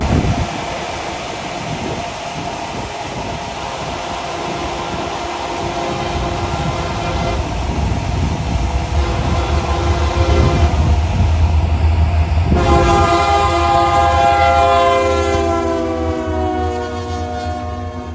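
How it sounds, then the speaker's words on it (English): Freight train LMS 55, led by an SD70M locomotive with two snoot-nose SD40s trailing, rumbles past loud and close, and its horn sounds in a long sustained blast toward the end. "The first train that came by was LMS 55 that caught me completely by surprise, and of course it had an SD70M leader"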